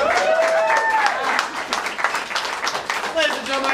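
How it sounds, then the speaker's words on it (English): An improv show audience breaks into lively applause with scattered cheers and whoops, the crowd clapping close and continuous while voices call out over it. "Give a round of applause."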